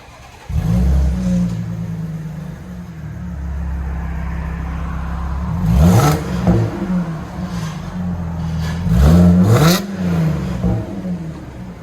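An Audi A7 3.0 Quattro supercharged V6 with a muffler delete starts and idles with a deep rumble, then revs sharply twice, each rev climbing and falling back, loud and close.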